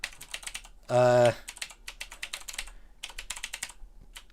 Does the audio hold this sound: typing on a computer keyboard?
yes